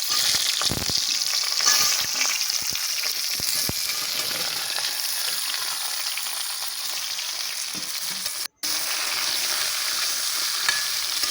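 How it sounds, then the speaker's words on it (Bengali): Bitter gourd, potato, pumpkin and drumstick fry together in one pan with tempered spices, giving a continuous close sizzle with occasional light stirring knocks and no voices. "এটা আমি এক ফোড়নে একসঙ্গেই ভেজে নেবো"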